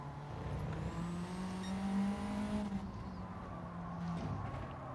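A Honda Civic race car engine in Gran Turismo 7 revs hard and steadily through an upshift into third gear at Tsukuba, a continuous loud drone with a brief pitch drop at the shift and no voices.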